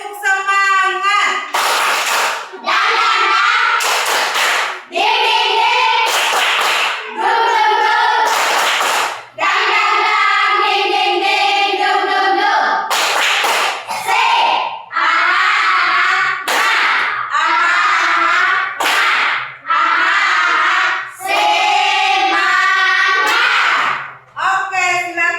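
A school class doing the Indonesian 'tepuk semangat' clapping routine, a group of voices chanting in rhythm while sharp hand claps land in patterned bursts between the phrases, loud and close, lasting about twenty-five seconds.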